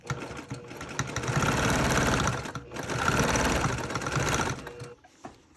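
A sewing machine stitches a purse seam in two close, steady runs of rapid mechanical whirring with a short pause between, then stops.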